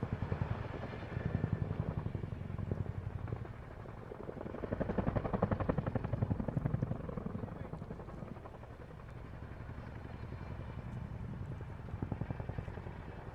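An RAF Chinook helicopter performs a flying display at an airshow, its twin rotors producing a distant, pulsing throb that swells and fades in waves; a commentator's voice is faintly heard at times.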